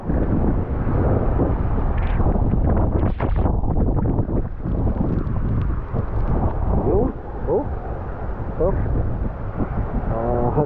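Strong wind buffets the microphone in heavy, rumbling gusts throughout, aboard a small fishing boat at sea, with brief bumps and faint voices underneath.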